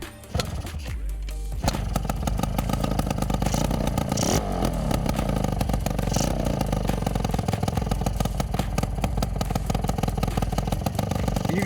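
An Adly motor scooter engine catches after a few sputters, then runs loud and close, rattling with repeated revs that rise and fall over a steady idle.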